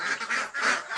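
Crowded ducks on a duck farm quack loudly and nearby, the calls merging into a thick, pulsing chatter that barely pauses, with no voices over it.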